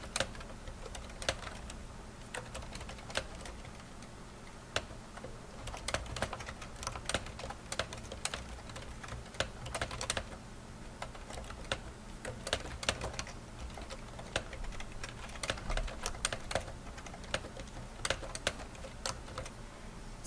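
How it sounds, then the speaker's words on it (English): Typing on a computer keyboard: quick, irregular clicking keystrokes close up, steady throughout with small pauses, no voices. "So if I start to type"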